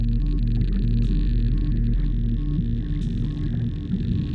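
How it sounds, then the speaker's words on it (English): Underwater shipping noise captured by a hydrophone in the North Atlantic: a dense, continuous low rumble with steady droning engine and propeller tones, loud and unbroken, with no voices. "Yeah, so that's all shipping."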